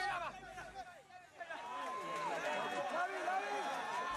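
A crowd of people surging toward the gate of Aung San Suu Kyi's house, a busy wash of running footsteps and excited voices, with birdlike whistles and calls rising over the steady bustle.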